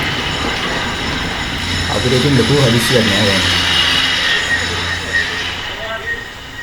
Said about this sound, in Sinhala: දැන් තමයි ට්‍රේන් එක ප්ලැට්ෆෝම් එකට එන්නේ.